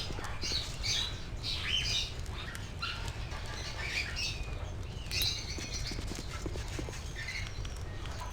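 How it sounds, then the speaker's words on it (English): Birds squawk and chirp in an elaborate indoor aviary in Baldur's Gate 2, with scattered bright calls and fluttering over a steady rumbling ambient bed, no voices. "You see a small bird flying through the branches of the aviary."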